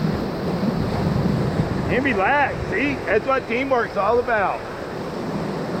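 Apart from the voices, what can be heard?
river rapids water rushing on the Ocoee River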